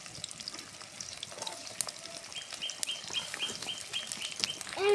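Chopped onion, cumin and garlic frying in oil with a soft, steady sizzle and light crackle, and faint birds chirping in the background.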